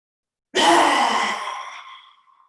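One forceful, breathy lion's breath exhale in yoga, with the tongue out, bursts loud and close after silence, then tapers off over about two seconds.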